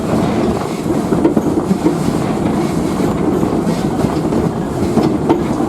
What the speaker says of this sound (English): Locomotive pulling our train today, the Torch Lake, is the oldest continuously operating steam locomotive in the country